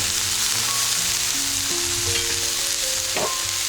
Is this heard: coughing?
no